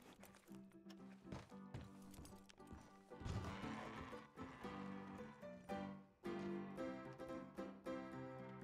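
A horse whinnies and snorts over the clatter of hooves clip-clopping, with a busy, synthetic video-game backdrop and no talk.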